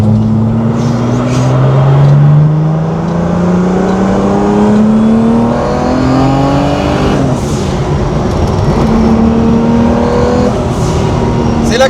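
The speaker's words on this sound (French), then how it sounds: "On est dans une voiture de 1976" A 1976 Porsche engine drones and revs from inside the cabin while driving, pitch rising and falling through gear changes, loud and continuous with people talking over it.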